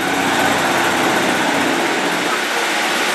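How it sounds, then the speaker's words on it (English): A Class 143 diesel unit coupled with a Class 153 arriving at Dawlish station, a loud, continuous diesel engine drone with a faint background voice. "The train that's just arrived is 143620 on the rear with 153370."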